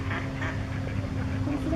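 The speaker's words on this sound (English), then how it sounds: "What does the duck say?" A duck quacks amid a noisy background of people talking nearby, the calls short and mixed into the chatter rather than standing alone.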